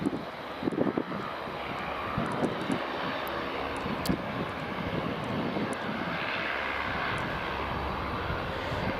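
A Saab 340 turboprop airliner at Aberdeen Dyce Airport, a steady broadband engine roar holding at an even, fairly loud level throughout, with light wind noise and no speech.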